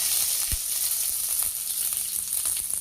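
Whole spices such as cinnamon sizzling in hot oil in a kadai for paneer curry, a steady close hiss with a few sharp pops and crackles, no voices.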